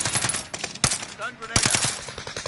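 Rapid automatic gunfire in a tactical shooter video game, loud bursts of several shots with a short pause between them, close and punchy, with faint voices mixed in underneath.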